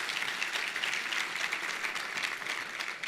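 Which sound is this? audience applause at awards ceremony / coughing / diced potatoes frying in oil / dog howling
audience applause at awards ceremony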